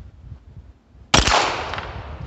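A single sharp crack from a Beretta Neos .22 pistol, loud and close, followed by a short decaying ring after a quiet moment.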